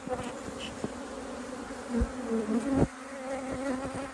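Angry honey bees swarm around an opened hive, a dense, close buzzing with individual bees droning past loudly now and then.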